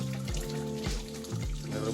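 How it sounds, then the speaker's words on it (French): A thin stream of water trickles steadily at a small waterfall, a soft continuous outdoor trickle heard at low level with no talking. "une toute petite ligne d'eau qui coule"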